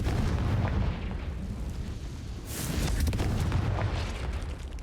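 Confringo fire spell blasts in Hogwarts Legacy: heavy booming explosions with rumbling low end, one burst fading before a sharper crackling blast hits midway, loud with no talking.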